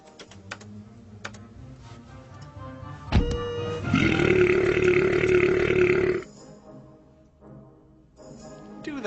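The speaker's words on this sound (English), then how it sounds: "we could then simulate their burping" A loud, drawn-out belch runs for about two seconds in the middle, led in by a short thump and set among scattered clicks and light background noise.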